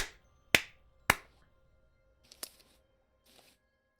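Sharp finger snaps during a homebrew Dungeons & Dragons tabletop session, two loud close snaps in quick succession followed by a few fainter clicks, with no talk.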